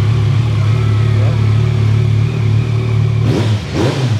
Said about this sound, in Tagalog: Subukan natin yung sound ng 3-cylinder,